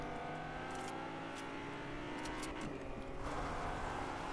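Cars race in a video game chase, a continuous loud engine roar with whirring and rising revs that holds steady for a few seconds, with no talking over it.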